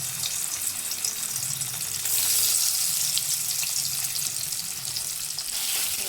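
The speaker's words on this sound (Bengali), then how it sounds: "এবার পনিরগুলো ভাজি, হালকা ভাজবো" Paneer pieces lightly frying in oil in a wok, a steady close hiss of sizzling that swells briefly midway and holds fairly even throughout, with no talking.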